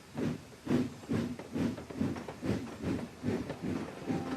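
Steam engine wheeshing away in a Trainz video game, giving a steady series of rhythmic hissing chuffs at an even pace, moderately loud and close, with no voices over it.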